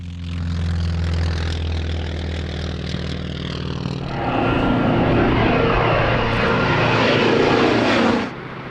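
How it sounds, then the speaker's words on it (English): A North American T-28S Fennec, a former US Air Force trainer later adapted by the French for ground attack, performs at a Jersey airshow. Its piston propeller engine drones steadily, then swells louder and rougher as it passes, before cutting away abruptly. "entering stage right, we have the North American T-28S Fennec, a popular performer on the airshow circuit"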